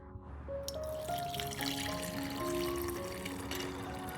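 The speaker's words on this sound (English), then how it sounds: "Pour 500 milliliters of warm water." Warm water is poured into a vessel in a steady stream, a close, continuous gurgle whose pitch rises as it fills, with no voices.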